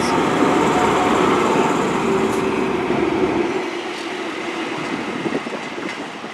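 Class 43 HST power car 43198 at Plymouth station gives a loud, steady diesel rumble with wheel noise, easing off partway through as the sound thins.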